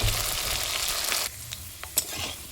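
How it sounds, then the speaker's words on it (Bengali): Cut potatoes fry loudly in hot oil in a pan, a steady close sizzle that drops off partway as they are stirred, with a few scraping knocks. "আলুগুলো দিয়ে একটু নাড়াচাড়া করে নিলাম একটু ভাজবো আলুগুলো"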